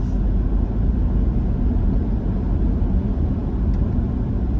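A Jeep Grand Cherokee 4xe on a very cold winter morning gives a steady low rumble of road and drivetrain noise from inside the cabin. Any distinct gear change is hard to pick out.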